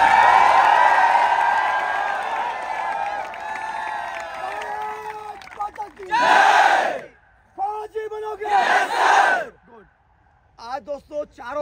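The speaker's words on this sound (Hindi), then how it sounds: "एक बार जोरदार तालियां बजा दीजिए।" A voice speaks in Hindi, and then a group at an Indian Army physical training academy bursts into loud shouted cheers twice, with brief gaps between the outbursts.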